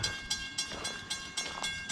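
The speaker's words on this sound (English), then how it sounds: "there's an actual train coming from somewhere." A train rumbles past at a distance near a New Jersey station, with rhythmic clacking pulses repeating steadily over a faint background hum.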